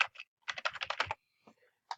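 Computer keyboard typing: a quick burst of close key clicks in a rapid rhythm, then a pause and a few scattered final taps.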